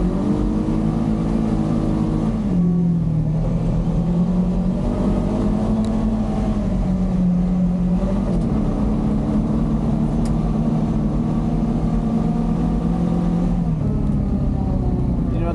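A Honda Pioneer 500 UTV engine drones loud and close, its pitch rising and falling as the throttle is pushed while the machine is driven.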